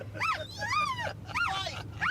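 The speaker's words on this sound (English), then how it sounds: "That dog is a menace to society." A dog whimpers and yips in four rising and falling whiny cries, close and fairly loud, with short pauses between them and a low steady hum underneath.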